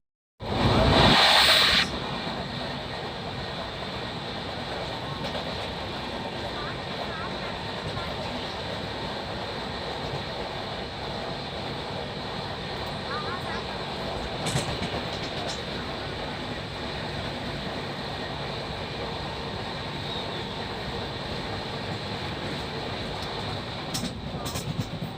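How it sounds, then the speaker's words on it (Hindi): A train passing by Bareilly Junction heard from inside a moving train, a steady low rumbling roar with a brief loud burst at the start and a few sharp clanks later. "ये ट्रेन पासिंग है"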